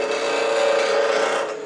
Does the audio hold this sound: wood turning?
yes